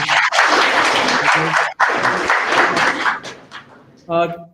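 Students applauding after an online expert lecture on cybersecurity, a loud burst of clapping that breaks off, resumes, then fades, with a voice speaking at the very end.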